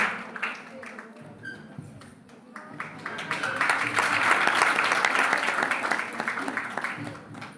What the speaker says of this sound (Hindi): जिन्होंने पार्टिसिपेट किया उनके हौसला वर्धन के लिए तालियां तो बजाते रहे